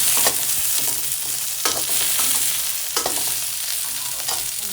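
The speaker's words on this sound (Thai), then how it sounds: "เอาใส่ในลงกระทะ ใส่น้ำมันไปนิดหน่อยนะคะ เอาคั่วก่อน" Oil sizzles steadily in a pan as shallots are stirred, with periodic scraping strokes cutting through the continuous frying hiss.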